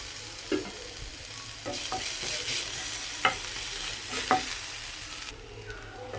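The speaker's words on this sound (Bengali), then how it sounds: "পেঁয়াজ কুচিটা হয়ে গেছে ভাজা ভাজা এবার দিয়ে দিব রসুন আদা থেতো করা" Chopped onion, already browned, fries in oil as crushed garlic and ginger go into the pan for a bread chop filling. The even sizzle is punctuated by several distinct spatula taps and stirring scrapes.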